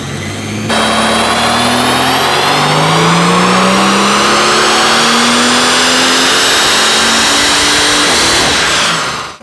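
A straight-piped Mercedes S65 AMG coupe with a RennTech-tuned V12 revs hard on a dyno, a loud sustained roar climbing steadily in pitch for about nine seconds before cutting off.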